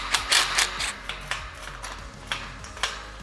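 A socket wrench with a 9/16 socket on a 3/8 adapter loosens a bolt on a farm gate, producing quick ratcheting clicks in short irregular runs, close and fairly quiet.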